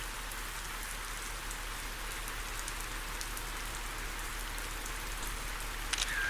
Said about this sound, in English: Really is a shame about the rain.